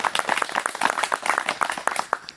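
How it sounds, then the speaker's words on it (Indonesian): A small audience at an oil palm fertilizing training session claps, with distinct, fairly close individual hand claps in an uneven, lively patter that continues throughout. "Tepuk tangan dulu itu untuk Cibaliung itu."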